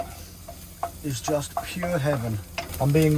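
Onion and garlic fry in a pan inside a van, a soft continuous sizzle with stirring. A voice talks over it throughout.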